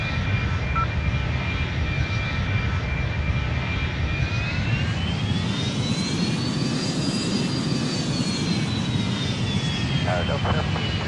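Steady, loud jet roar from Boeing 737 engines spooling up for a Ryanair takeoff out of Madrid in the Airline Commander flight game, with a high whine that holds, then climbs and eases off over a continuous engine rumble.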